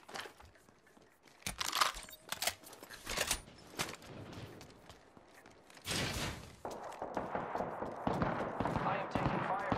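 Video game gunfire in bursts of sharp shots and rattling volleys, some close and loud, scattered across the scene with a voice talking intermittently over the action.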